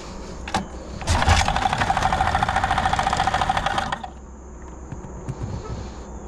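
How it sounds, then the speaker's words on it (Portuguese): Engine of a mini speedboat with a blown, knocking motor running in a loud rapid clattering burst for about three seconds, then dropping back to a quieter idle. "Motor da mini lanche já era."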